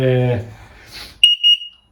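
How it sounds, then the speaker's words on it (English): A voice trails off, then a few short, clear low-battery warning beeps ring out close by from a Veteran Patton S electric unicycle, evenly pitched and spaced, before silence. "It's just a beep letting you know that your power's running low."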